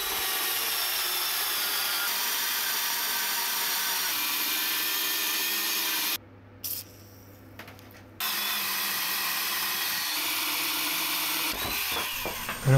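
Power tool cutting old metal bars salvaged from a coffee table for an asymmetric wood and metal bench, a steady loud grinding drone running throughout, briefly cutting out for about two seconds midway before resuming.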